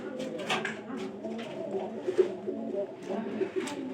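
Pigeons coo softly and repeatedly inside a newly arranged pigeon loft, their low murmuring calls overlapping in a steady, close-up chorus with a few louder peaks.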